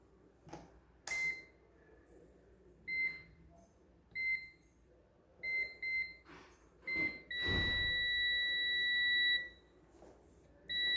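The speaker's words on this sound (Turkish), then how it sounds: "Cihazın buzzer sesi de iyi." Short electronic beeps from a UNI-T UT17B Pro multimeter's continuity buzzer repeat in an irregular pattern, ending in one longer sustained tone, clear and close with no talking.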